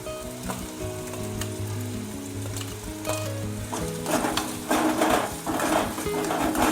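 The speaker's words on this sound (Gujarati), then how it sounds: "ડુંગળી નાખી મરચાં નાખી દીધા" Onion and green chilies frying in a pan for a Gujarati brinjal dish, giving a steady loud sizzle with crackling bursts and occasional utensil clinks; background music plays throughout, and no one speaks.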